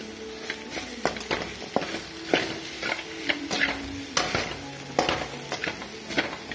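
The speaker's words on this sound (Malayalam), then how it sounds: "മസാലയൊക്കെ ഒന്ന് തരണ്ട് കിട്ടുന്ന രീതിയിൽ വെണ്ടയ്ക്ക നന്നായിട്ട് വഴറ്റി കൊടുക്കുക." Okra being sautéed in masala, stirred with repeated scraping strokes of a spoon against the pan over a steady close sizzle, irregular clatters and scrapes roughly every half second.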